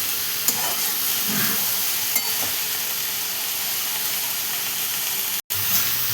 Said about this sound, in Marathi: आणि सगळं मस्त असं मिक्स करून घेऊया आपण बघा.